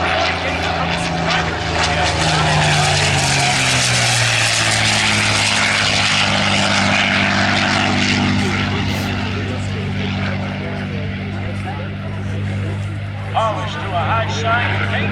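A P-51 Mustang propeller fighter plane roars past at an air show, its loud, steady engine drone holding throughout with a slowly shifting pitch as it passes close by, with announcer talk faintly underneath.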